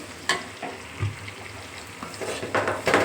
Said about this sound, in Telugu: సరిపడా పసుపు అలాగే కొంచెం సాల్ట్ని కూడా వేసేసుకున్నాం వీటన్నిటిని బాగా మిక్స్ చేసి